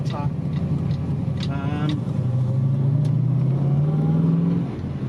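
A Holden LH Torana with a 383 stroker V8 revs up sharply in short blips, then holds a long, rising, tight-sounding rev close by, with someone talking over it.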